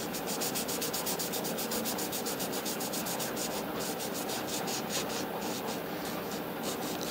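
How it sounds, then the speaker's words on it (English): Fine 1000-grit sandpaper rubbed over copper on a Gottlieb pinball score-reel unit, a steady, close scratchy rasp of quick back-and-forth strokes running throughout with no talk. "1000 grit sandpaper I'm using"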